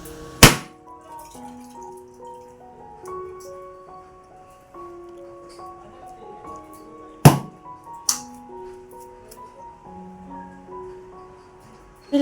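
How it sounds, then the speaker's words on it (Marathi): A coconut cracked open as a puja offering, a few sharp hard knocks standing out against soft background music, with no talking. "आता ते नारळ वाढवतात आहे."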